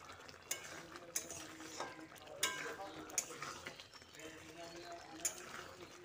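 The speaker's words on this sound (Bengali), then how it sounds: "তারপর সব কিছু আরও একবার ভালো করে মিশিয়ে নিচ্ছি" Spoon stirring mung bean curry with ghee in a pan, soft scraping and clinks against the metal with occasional sharper taps, quiet and close under a speaking voice.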